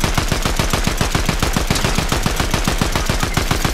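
Gunfire in the video game Fortnite, a loud, rapid, evenly spaced burst of shots repeating steadily for several seconds, close and without speech.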